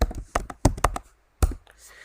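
Computer keyboard keys clicking in two short bursts of taps with a pause between, close and fairly loud, with no voice.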